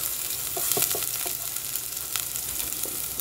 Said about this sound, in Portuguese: Vou dar uma refogadinha.